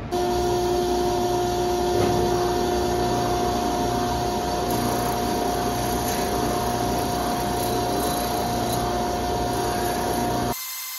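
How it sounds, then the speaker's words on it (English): A shop vacuum runs continuously during sanding in a makerspace, a constant hum and whine, alone and fairly loud, cutting off abruptly near the end. "don't forget to turn on the vacuum and hit the on button"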